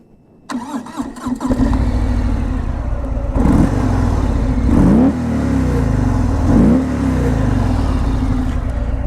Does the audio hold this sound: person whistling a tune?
no